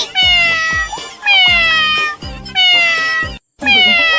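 Several loud, drawn-out cat meows follow one another closely, each a high, wavering cry, near and clear with no talking.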